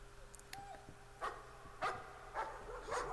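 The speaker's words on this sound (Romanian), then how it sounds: "s-audă câinii cum latră" Dogs in the horror video game Layers of Fear bark faintly in the distance, four spaced barks over a low ambient hum.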